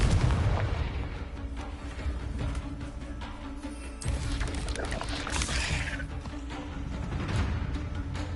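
Confringo spell blast in a PS4 video game, heavy rumbling explosive booms rolling over several seconds beneath a busy, noisy game soundscape.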